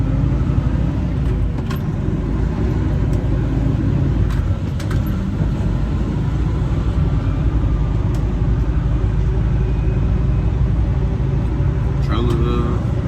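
A semi truck's diesel engine rumbles loud and steady from inside the cab while a trailer is backed into a dock door, a constant low drone with occasional small clicks and jangles.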